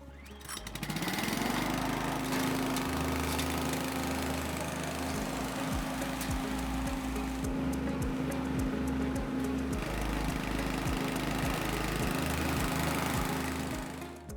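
A Cobra WV580SPL wheeled vacuum blower starts up and runs loud and steady, its petrol engine droning with a constant whine as the machine drives forward, with rhythmic knocks in the low rumble.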